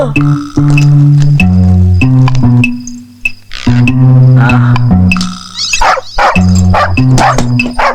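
A dog lets out loud, close, repeated drawn-out barks and yowls in uneven bursts separated by brief pauses, with sharp clicks and rustles in between.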